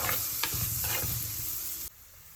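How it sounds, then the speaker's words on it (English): Onions sauté in a pan for Kerala-style fish curry, sizzling loudly and continuously with a few stirring scrapes before the sound cuts off abruptly. "And then keep sauteing."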